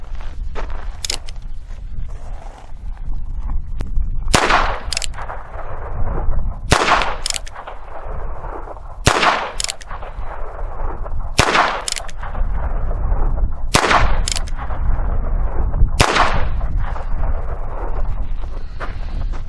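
Heritage .22 Barkeep revolver firing Federal target ammunition at about 10 yards outdoors: seven or eight sharp, loud single shots spaced a few seconds apart, each followed by a short echo, with wind noise in between.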